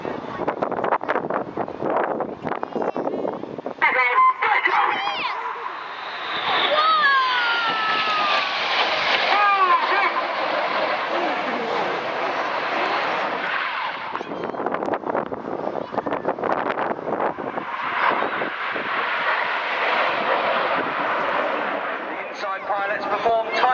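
Red Arrows display jets fly low over the sea at the Bournemouth air festival. Broad roaring swells rise and fall over gusty wind buffeting the microphone, with a voice speaking at times.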